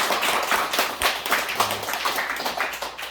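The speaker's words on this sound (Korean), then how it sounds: "우리 환영의 박수 해주시기 바랍니다." A church congregation at a Sunday worship service gives welcome applause, a brief dense patter of hand claps from a roomful of people, moderately close and continuous.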